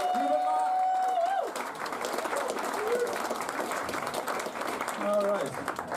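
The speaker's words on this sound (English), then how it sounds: "please, can we have some applause for Hubert Meyer?" Comedy club audience at a new act comedy festival final clapping and cheering for a comedian, a full round of applause with a voice heard over it and some cheers.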